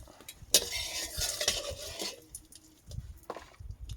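Whole spices, a bay leaf, chilies and a pinch of salt crackle in hot oil in a wok, a quiet sizzle with a sharp spatter and metal utensil scrapes and knocks, fading toward the end.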